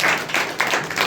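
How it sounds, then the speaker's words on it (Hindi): Worshippers at a church youth meeting clap for God in a short, lively burst of applause that swells and dips in a loose pulse, fairly close and with no voices over it. "एक अच्छा ताली बजाएं प्रभु के लिए।"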